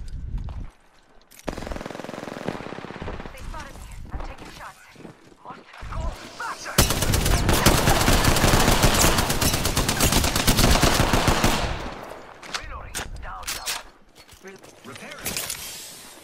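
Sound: gunfire in the video game Apex Legends

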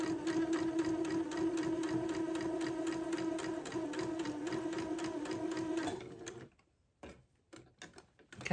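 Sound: sewing machine sewing second pass of French seam

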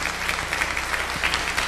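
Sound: audience applause

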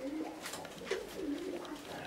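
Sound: Uzbek double-crested pigeons cooing

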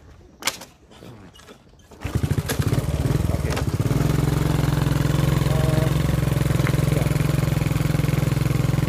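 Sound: 1982 Honda C86 motorcycle starting and idling

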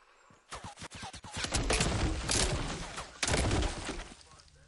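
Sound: gunfire from the video game Fortnite

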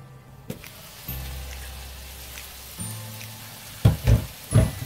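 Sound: vegetables frying in pan

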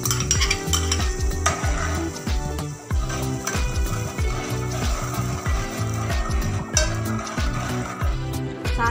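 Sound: ghee and yogurt mixture starting to boil in a pot

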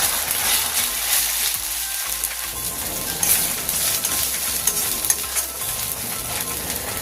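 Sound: ginger garlic paste frying and stirring in oil

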